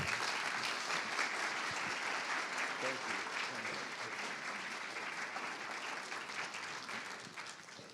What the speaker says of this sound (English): A round of applause for Dr. Raman Gokal.